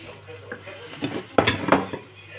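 Pasta being gently stirred in a pot, with soft clinks and scrapes of a utensil against the metal in a few irregular strokes, and a voice faintly in the background.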